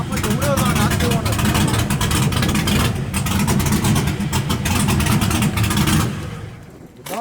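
A Chevrolet Silverado truck engine rumbles and revs loudly nearby in a sustained throaty roar, easing off near the end, with someone speaking over it.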